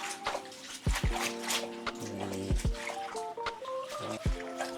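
Leaves for palava sauce are swished and rubbed in a bowl of salted water, with close splashes, trickles and drips in an uneven rhythm.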